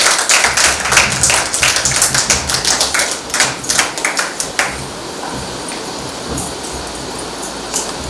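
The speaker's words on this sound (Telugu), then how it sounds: "క్లాప్స్ కొడదామండి." Clapping from an audience gathered at an anniversary fellowship meeting of pastors' wives in Kurnool, a burst of many hands that thins into scattered claps and fades to quiet room tone.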